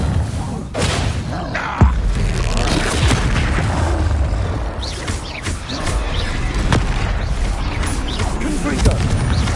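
Booming blasts from the Bombarda blasting spell in a Harry Potter video game, with heavy thuds and crashes repeating through dense battle noise and mechanical clatter.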